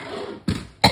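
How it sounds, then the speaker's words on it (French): Two short, sharp coughs from one person close by, about a third of a second apart, following a brief stretch of quiet room tone. "Je tousse."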